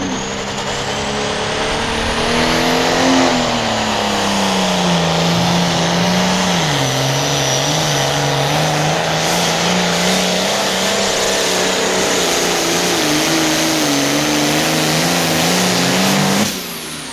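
A loud International 1026 tractor engine revs and drones continuously at a tractor pull, pitch rising and falling under strain before cutting off near the end.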